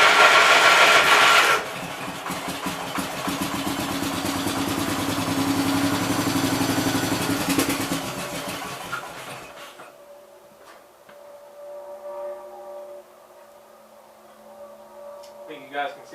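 A 1969 Gravely 430 tractor engine runs with a rough, pulsing idle that is loud at first and then drops away into quiet, broken by a few clunks and a person talking.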